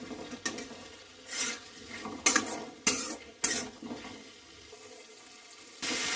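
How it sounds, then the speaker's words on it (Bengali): Fried potatoes being stirred into a cooked spice masala in a pan for a prawn and potato curry: a handful of scraping, clattering spoon strokes at an uneven pace, close by with no talking. "আলুটা দিয়ে আরো 2 মিনিট মতো নাড়াচাড়া করে নেব।"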